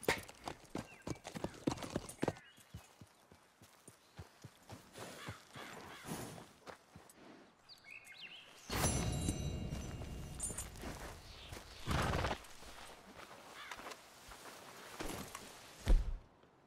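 Horse hooves clip-clopping in Red Dead, a rhythmic run of hoofbeats that fades and returns, with a few louder thuds and a possible snort, no talking over it.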